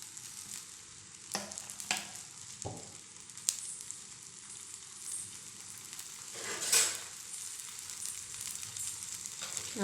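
Adai made from poha and wheat flour frying in oil on a pan gives a soft, steady sizzle, with a few quiet scrapes and clinks rising above it.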